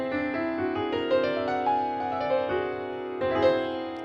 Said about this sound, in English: Or there's also an augmented chord, which sounds like this.